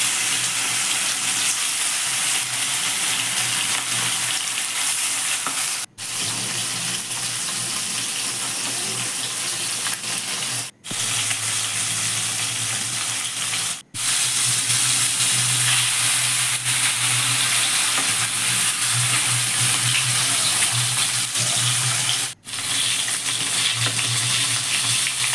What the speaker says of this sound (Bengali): এবার আমি নুন হলুদ মাখিয়ে কড়াই গরম করে মাছগুলোকে এক করে ভেজে নেব।